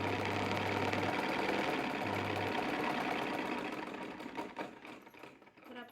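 A sewing machine runs in a steady, fast mechanical whir while stitching a hook-and-eye strip onto blouse fabric, then slows and gives way to lighter handling clicks and rustles, with no talking.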